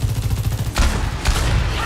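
Rapid, loud bursts of turret fire in Overwatch 2 hammer out in a steady rhythm, with a couple of heavier impacts cutting through the stream of shots.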